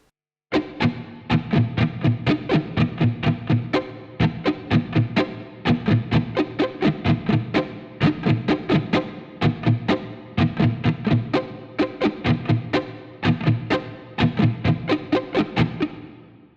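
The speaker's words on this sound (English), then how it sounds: "I'm going to play the rhythm real slow so you can hear the rhythm how it goes" Slow, distorted electric guitar rhythm part from a song, played without wah, with a chorus-like effect; steady repeated strummed chord figures with short gaps, loud and alone.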